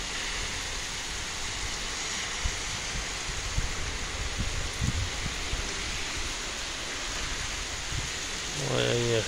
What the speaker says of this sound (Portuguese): Muita chuva e o vento tá forte também, viu?